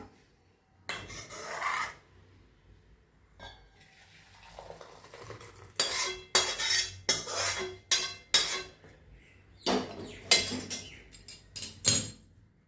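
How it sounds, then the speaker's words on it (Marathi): Moong dal amti is scraped from one metal pot into another with a ladle, producing repeated loud rasping scrapes and clinks in irregular bursts, close up with quiet pauses between. "आता मी हे दुसऱ्या भांड्यात काढून घेते।"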